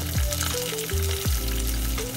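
Long-slit green chillies dropped into hot oil for a gongura curry set off a strong continuous sizzle, with a few brief tonal squeaks over the frying.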